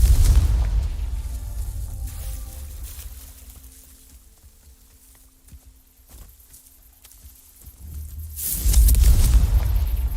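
A magical fire spell explodes in the Hogwarts Legacy game, a heavy low boom that rumbles and decays, followed by quieter rumbling and a second deep blast near the end.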